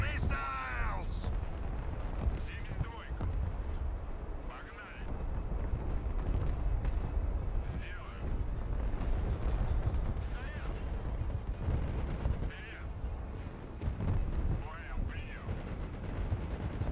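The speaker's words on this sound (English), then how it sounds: "Another volley of missiles!" In the Broken Arrow video game, a missile volley and artillery explosions build a continuous heavy rumble with repeated booming impacts, while voices talk over the battle noise.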